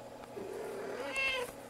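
A cat gives a single drawn-out meow that rises toward the end, close and fairly faint, heard on its own.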